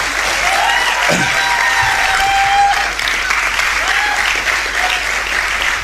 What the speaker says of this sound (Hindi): तालियां बजाओ दोस्तों